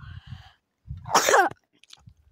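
A single close, forceful sneeze bursts out outdoors in the mountains, preceded by a few soft breaths and followed by quiet shuffling.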